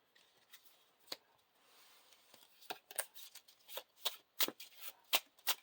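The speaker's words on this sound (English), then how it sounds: "I'm going to shuffle Galvin into the deck and then shuffle a random" Playing cards being shuffled into a deck for the Lord of the Rings card game: a run of crisp riffling bursts that start sparse and grow denser and louder, close and alone with no talk.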